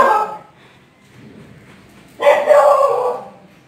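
A dog barks angrily outside a house, a short bark at first, then a louder, sustained burst of barking after a quiet stretch.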